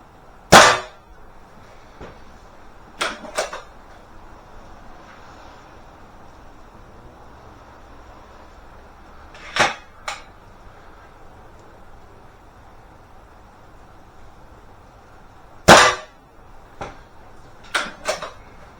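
Webley air rifle shots outdoors, with pellets striking a target; several sharp, isolated cracks spaced seconds apart, some in quick pairs, over quiet background with no talking.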